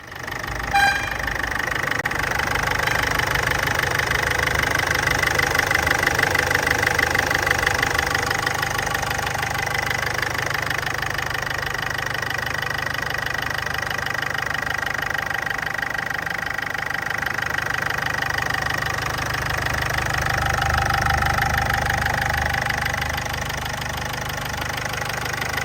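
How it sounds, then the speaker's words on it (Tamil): A 2007 Ford Fusion diesel car engine idles steadily and close up, a continuous mid-pitched rumble with a light knocking clatter that holds level without any talk. "இன்ஜினோட சவுண்டை நான் உங்களுக்கு தனியாக காட்டுறேன்"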